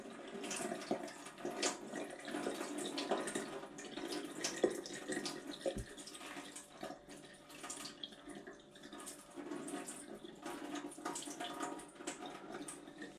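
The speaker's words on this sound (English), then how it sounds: "Now we're going to pour the cold water on it." Cold water poured over a bent foam wing, a steady broad wash of running water that continues through the whole stretch at moderate level with small splashy fluctuations.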